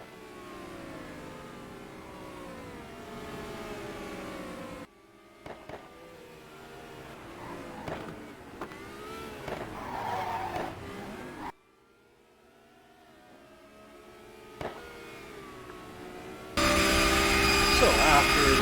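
A BMW 3.5 CSL race car engine in a racing game at Kyalami, South Africa, revving and shifting through rising and falling pitch sweeps, loud and steady, with brief gaps and a harsh burst near the end.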